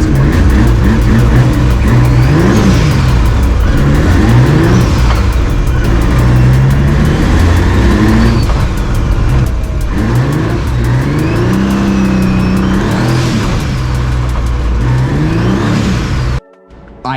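A Suicid3 MX3 car on a snowy road revs and accelerates loudly through repeated rising engine sweeps as boost builds, each pull climbing then dropping between shifts before cutting off abruptly at the end.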